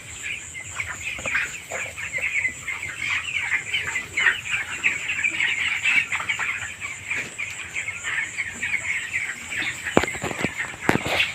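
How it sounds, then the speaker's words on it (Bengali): Twenty-day-old chicks in a poultry shed cluck and peep continuously, a dense steady chorus of many birds close by, with occasional sharper calls and brief flaps near the end. "আর এইগুলো হচ্ছে সব 20 দিনের মুরগির বাচ্চা।"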